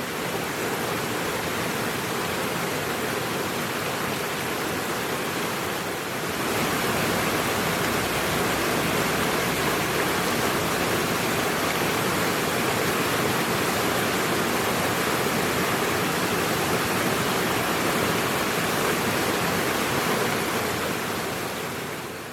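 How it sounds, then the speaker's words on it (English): River water flows continuously in a loud, broad rushing wash that holds steady throughout, close by with no voices. "just hearing the sounds of water"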